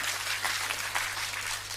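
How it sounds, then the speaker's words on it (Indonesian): A church congregation claps for God during a sermon, a steady, dense patter of many hands with a low hum underneath, fairly faint and without talk. "Tepuk tangan sama dia"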